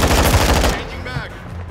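Rapid bursts of automatic gunfire from a Call of Duty: Modern Warfare match crackle loudly through the first second, then thin out into fainter, more distant shots under a voice and background game noise.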